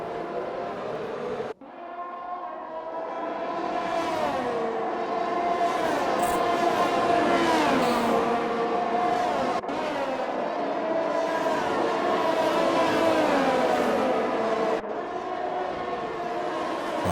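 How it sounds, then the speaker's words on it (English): Race cars lap the Imola circuit in a racing video game, their engines droning loudly and continuously, with rising and falling pitch as several cars pass close together. "Nice little trio of cars there."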